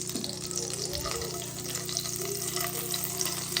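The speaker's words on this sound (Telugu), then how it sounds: "అలానే ఈ చిన్న క్యూబ్ బటర్ కూడా వేసేస్తాను." A small cube of butter sizzles and fries in hot oil in a pan, with a steady, close, continuous crackle and no voices.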